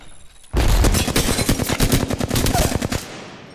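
Rapid automatic gunfire from an enemy in the battle royale shooter Apex Legends, a loud sustained burst of tightly spaced shots lasting nearly three seconds, close and alone with no talk over it.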